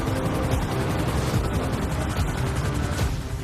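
A helicopter in a battle video game roars with a constant dense rotor wash and engine drone, heavy and continuous, with gunfire-like crackle mixed in throughout.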